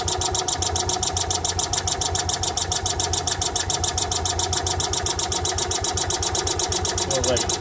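A rebuilt Kawasaki FE350 small engine idles close by with a fast, even chirping pulse that repeats without a break, bright and rhythmic over a low running hum.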